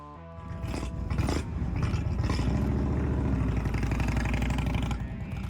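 An Indian Roadmaster touring motorcycle with a large Thunderstroke V-twin engine roars steadily and loudly, its deep rumble rising after a brief start and holding throughout.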